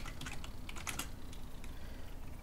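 Rapid typing on a computer keyboard, a close flurry of light key clicks in quick uneven bursts, over a faint steady background hum.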